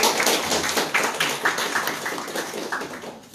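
A round of applause for a guest at a film festival debate, Cine Jardim 2019: a short patter of clapping from a modest audience, fairly even and close, tapering off at the end.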